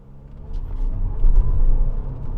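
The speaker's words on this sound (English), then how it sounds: "I'm going to stop and see how this car actually accelerates from 0" A 2017 Audi A5, front-wheel drive rather than quattro, is floored from a standstill, its engine rumble swelling up close and holding strong as it pulls away.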